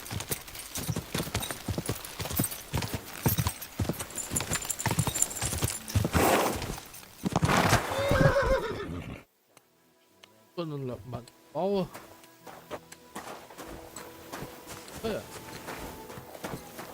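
Steady clip-clop of horse hooves trotting close by in the video game Kingdom Come: Deliverance II, stopping abruptly, followed by a horse's whinny and someone speaking.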